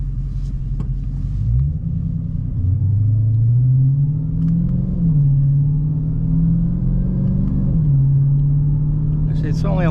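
A 2022 Dodge Challenger Hellcat with a 717 hp supercharged engine pulls hard under acceleration, its deep rumbling note climbing in pitch through the gears, heard from inside the car with a voice talking over it.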